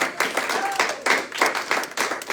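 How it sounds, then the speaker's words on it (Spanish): A church congregation claps in a steady rhythmic beat, loud and close, and the pulses repeat evenly about every third of a second, with voices faintly underneath. "Denle un aplauso al Señor."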